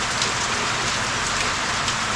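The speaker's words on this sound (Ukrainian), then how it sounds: "Дощ почався." Steady rain falls on surfaces outside a house in Volhynian Polesia during a drought, a dense, even hiss that is fairly loud and close, with no speech.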